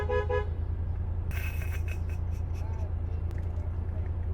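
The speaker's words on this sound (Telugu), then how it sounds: "ఈయన హార్న్ కొట్టి ఇంకొంచెం విసిగిందాం అనుకుంటున్నా." A car horn gives a short pair of tonal honks at the start over a low, steady engine rumble inside the car. Brief rustling and handling noises follow.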